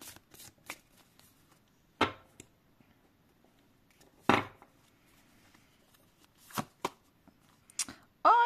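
Oracle cards shuffled by hand in brief bursts, a few crisp riffling swishes and taps spaced across a quiet stretch with no talking.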